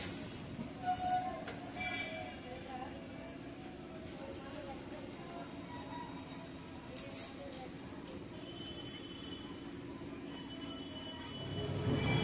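A local train pulls out of Rishra station on the Howrah to Bandel line, a continuous rolling rumble with clatter and rising noise near the end, heard from on board with faint voices underneath.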